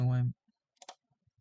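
Keyboard typing during a live coding contest: a few sparse, quick clicks follow a short voiced sound, with quiet gaps between them.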